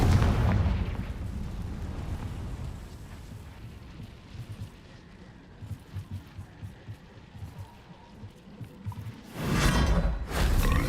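Confringo explosion spell cast in the Hogwarts Legacy video game, a booming blast followed by a rumbling tail and scattered crackles, then another loud burst near the end.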